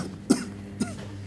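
A person gives two short, sharp coughs about half a second apart during a first-aid choking demonstration, up close in a quiet room.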